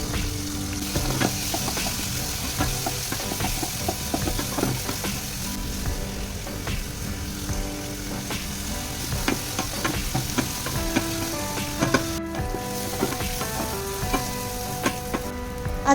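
Onion and tomato tempering with cumin, mustard seeds and curry leaves fries loudly in a pan, a dense continuous crackle and sizzle with frequent spatula scrapes and clinks throughout, no talking.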